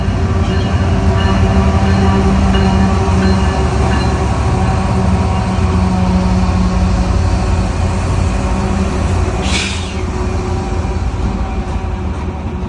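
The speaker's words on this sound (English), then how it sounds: "I'll talk again once the locos pass." A long freight train hauled by ET44AC locomotives passes close by, with a loud, steady rumble and rolling wheel noise throughout, plus a brief sharp squeal partway through.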